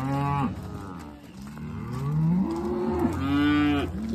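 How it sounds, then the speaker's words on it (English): Cattle being sorted in a barn, cows and calves separated: several loud, drawn-out moos overlap and follow one another at close range, with no talk over them. "Putting all the cows outside."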